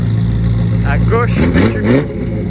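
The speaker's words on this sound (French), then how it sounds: "c'est échappement libre et à droite, c'est d'origine. La différence de son, elle est incroyable." A car with a free-flow exhaust revving on a Paris street, a steady loud engine drone with short rising revs in the middle, while people talk over it.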